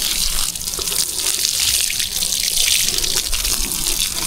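Steady water spray hisses continuously while plants, including a durian tree, are watered outdoors, a close and constant rush with no pauses.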